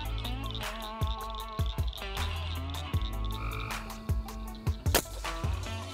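Frogs croaking outdoors at night, a steady run of loud, close, rhythmic croaks with short gaps, heard alone without talk.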